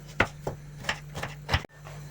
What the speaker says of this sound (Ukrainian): Цибулю нарізаю дрібненьким кубиком.